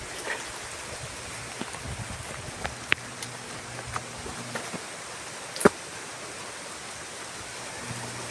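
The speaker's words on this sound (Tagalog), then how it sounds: "Araw-araw na lang umuulan dito" Rain falls steadily outdoors in a rural Philippine setting, a faint, even hiss with scattered drips and a couple of sharper taps, no one talking over it.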